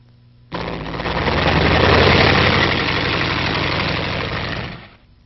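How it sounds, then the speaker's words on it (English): LVT amphibious tracked vehicle engine starting with a sudden loud roar and rumbling as the vehicle drives out from under a maintenance skid, then fading away near the end. "Then the LVT can be driven out from beneath the skid."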